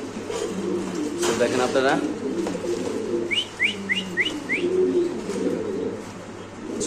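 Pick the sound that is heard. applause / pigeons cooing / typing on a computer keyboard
pigeons cooing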